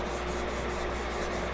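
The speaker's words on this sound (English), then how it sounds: "Hit it with the sanding sponge," A sanding sponge rubs over a charred wooden handle in a brief, even scratchy stroke heard up close, with no talking.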